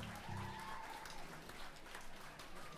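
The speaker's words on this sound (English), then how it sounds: "I'd like to you to give a special applause for Ben Bear on the bass and blind Brian Flores on the drums" A big band audience applauds the bass player and drummer, a steady wash of clapping from a moderately distant crowd with a low sustained tone from the stage underneath.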